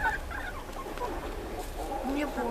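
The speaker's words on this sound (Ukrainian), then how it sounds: "Кирюша, а тобі який найбільше півень подобається" A rooster clucks several times at close range, giving short rising and falling calls over steady farmyard background noise, with no voices.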